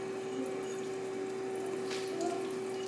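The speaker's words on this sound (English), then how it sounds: "First thing we're gonna do is rinse out our peaches." Tap water runs steadily over ripe peaches being rinsed in a home kitchen sink, a continuous close hiss and splash with a faint tonal hum underneath and no talking.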